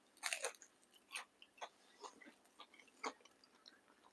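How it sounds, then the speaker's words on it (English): Crunchy bites into vegetarian fritters, several sharp, crisp crunches close to the mic, with quieter chewing in between. "Hear that crunch?"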